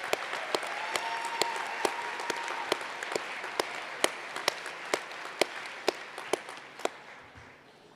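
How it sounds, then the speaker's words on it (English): A convocation audience applauds student ambassadors at a College of Information Science spring ceremony, a steady wash of many hands clapping with sharp individual claps standing out, gradually tapering toward the end. "If we could please give our student ambassadors a big round of applause"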